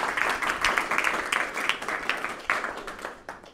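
Audience applause at a lecture gathering, a room full of clapping that stays strong and fairly close, then eases slightly toward the end.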